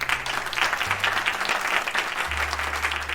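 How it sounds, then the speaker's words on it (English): An audience claps for a guest on a show, a steady, even round of applause lasting about three seconds with no voices over it. "Let's give Seth another round of applause."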